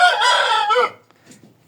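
A young rooster hatched in late winter crows once, close and loud, a single strained cock-a-doodle-doo that breaks off, followed by faint clucks and quiet.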